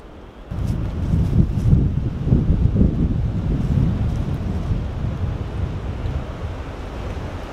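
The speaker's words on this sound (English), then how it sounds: "If y'all can hear me over this loud wind and cracking trees around me" Loud wind gusts roar and buffet the microphone outdoors at a fence build, a thick, surging rush that swells early and then holds steady; no distinct cracking of trees stands out.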